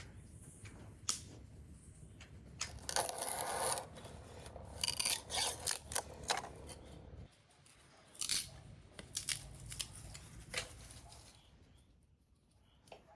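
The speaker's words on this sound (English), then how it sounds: "Mash the cookies slightly so they absorb moisture from the cottage cheese" Cookies being mashed into cottage cheese in a bowl, soft close scraping and crumbly squishing strokes coming in irregular bursts with brief quiet gaps.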